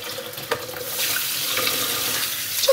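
Tap water runs steadily into a kitchen sink as fish is rinsed, a constant hissing stream broken by a few splashes and small knocks.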